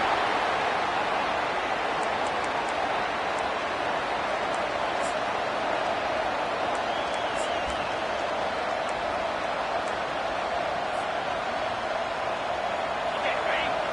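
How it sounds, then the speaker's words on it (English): Roar of a football stadium crowd during a game against Georgia, a dense steady wash of noise that holds throughout, with voices in it. "the crowd really making some noise now"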